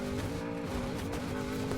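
Porsche Cayenne engine droning in a racing video game head-to-head against an Audi S1, a steady sustained engine hum with harmonic tones and tire noise, fairly quiet and continuous.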